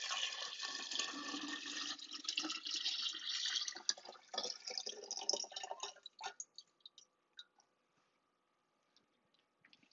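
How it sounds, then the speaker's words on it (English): Cold water pours steadily into a jar for kombucha, a close gushing splash that runs for about six seconds before tapering into a few trailing drips and then silence. "So I'm going to pour some cold water in here first."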